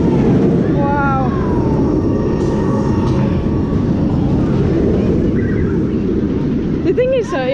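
Toxicator roller coaster at Alton Towers rattling past nearby as a loud, steady roar and clatter that fills the whole stretch, with screams and squeals from riders rising at the end.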